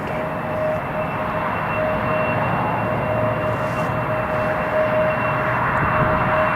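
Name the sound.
Lufthansa CityLine Bombardier CRJ 900 jet aircraft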